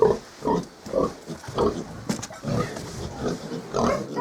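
Young piglets, about a month and a half old and just weaned, grunt in a pen in repeated short, low bursts that stay fairly close and moderately loud. No one speaks.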